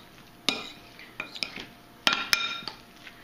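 Tuna burger mix with green onions and mustard stirred in a bowl, sparse close clinks and scrapes of a utensil against the bowl at irregular intervals, fairly quiet, without talk.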